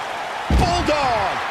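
A bulldog slam in the wrestling video game WWE 2K19 lands with a single heavy thud, followed by ringing game sounds.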